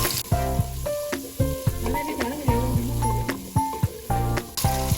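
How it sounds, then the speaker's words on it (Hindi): Chopped onions sizzle and fry in hot oil in a pot for aloo pulao, a steady close crackle with periodic stirring scrapes and clinks, heard alone without talk. "अब प्याज को हमने लाइट ब्राउन होने तक पकाना है।"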